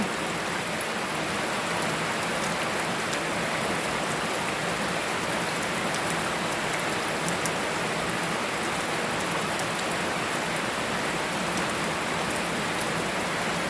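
Steady rain pours down, a dense even hiss of drops hitting surfaces that holds constant throughout with no voices, while an elephant plays in the rain.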